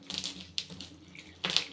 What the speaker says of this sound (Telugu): ఇంకా వాటర్ తీసుకొని కలిపేయడమే.